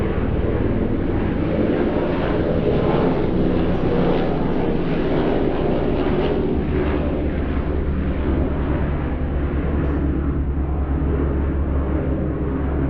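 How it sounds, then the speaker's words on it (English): A Black Hawk helicopter passes overhead during an outdoor beehive inspection, producing a dense, continuous low rumble and roar that stays loud and steady throughout with no talking. "That one went right over my house. Pretty sure that was a black hawk."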